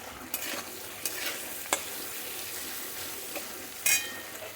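Vegetables frying in a pan with salt and turmeric, a steady close sizzle broken by several sharp scraping stirs of a spatula against the pan.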